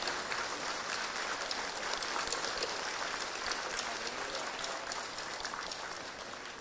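A large audience gives a standing ovation for award winners, dense sustained clapping filling the room evenly and loudly throughout, easing slightly toward the end.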